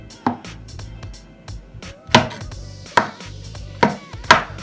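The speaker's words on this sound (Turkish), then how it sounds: "Güzelce yıkamış olduğum mantarları şimdi dilim dilim doğrayacağım." A knife repeatedly slicing washed mushrooms on a cutting board, steady crisp chops with short gaps, close and clear without talking.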